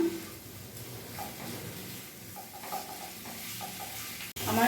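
Mutton liver is stirred in a pan over a raised gas flame, a low steady sizzle broken by soft scraping strokes and light clicks, fairly quiet with no speech.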